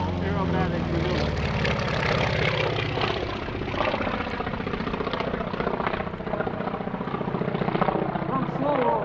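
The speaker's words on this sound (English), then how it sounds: "we get a chance to see him fly his biplane, the Super Stearman" A Super Stearman biplane flies rodeo-style aerobatics at an airshow, its radial engine a loud, rough, throbbing drone that shifts in pitch as it maneuvers overhead, with a commentator talking over it.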